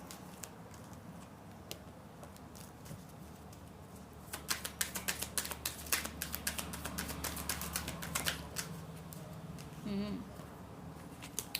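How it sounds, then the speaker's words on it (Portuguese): A large tarot card deck is shuffled by hand, giving soft, rapid papery patter and flicks that thicken midway through the clip, fairly quiet and close, with faint talking in the background. "as cartas são muito grandes, é ruim de embaralhar, mas eu amo esse deck"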